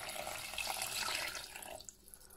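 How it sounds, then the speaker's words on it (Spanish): Water poured into a Thermomix cooking pot, about 350 ml, in a home kitchen: a steady, close splashing pour that runs for about two seconds and then tapers off. "ahora le vamos a poner 350 de agua"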